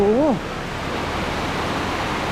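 Steady broadband rush of a waterfall at Mae Kampong, filling the scene from start to end at an even level, with a brief vocal exclamation over it at the very beginning.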